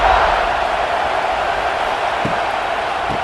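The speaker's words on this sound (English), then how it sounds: "It's early, but this crowd is fired up." A fired-up stadium crowd roars in a College Football 26 game between Ole Miss and Georgia. The cheering is a dense, loud, sustained wash with a couple of faint thuds near the end.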